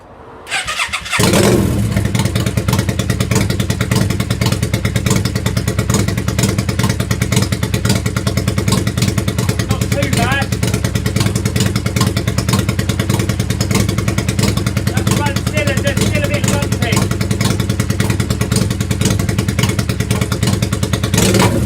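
Yamaha Virago XV535 rat bike with a misfiring cylinder cranks over and catches, then idles loudly and steadily close by with a rough, uneven V-twin pulse and occasional mechanical clatter.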